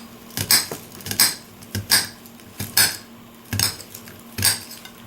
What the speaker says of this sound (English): Little cloves, and then you're going to cut them into little pieces.